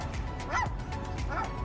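A seagull imitates a dog's bark, giving two short, yelping bark-like calls, close and clear over an outdoor background hum.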